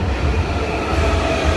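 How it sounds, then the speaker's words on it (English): A train arriving at London Bridge station, a loud steady rumble of wheels and low engine drone filling the short stretch, with no talk. "train's actually just busy arriving."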